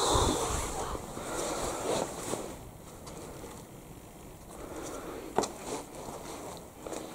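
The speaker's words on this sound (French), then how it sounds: "Ce qu'on entend là, c'est le vent qui souffle à travers les murs." Wind blows through the walls of an abandoned hospital, a breathy, fluctuating rush that rises and falls in gusts, with a faint rattle partway through and no talking.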